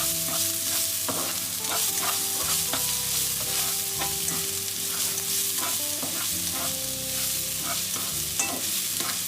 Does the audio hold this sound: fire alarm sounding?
no